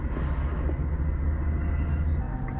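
A train rolls past on the rails with a dense, steady low rumble and faint high squeals hinting at braking, close and continuous throughout.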